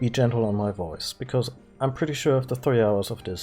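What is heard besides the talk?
No everyday noise stands out behind the speech.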